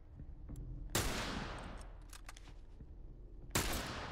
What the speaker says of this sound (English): Look out, he's got a rifle.